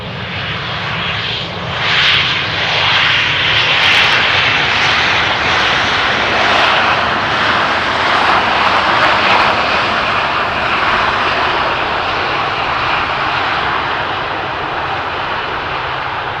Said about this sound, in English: They're all expected to land over here in front of us